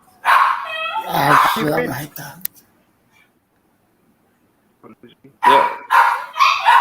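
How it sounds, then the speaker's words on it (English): Pet dogs bark in a home in short bursts behind a person on a live call, with voices talking before and after a brief quiet gap. "My damn dogs again."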